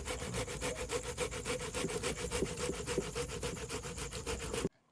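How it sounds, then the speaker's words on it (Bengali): Ripe tomatoes are being grated by hand, producing a fast, even series of wet rasping strokes that repeat steadily at close range until they stop suddenly. No talking. "এবার টমেটো গুলো ঘষে নিয়েছি।"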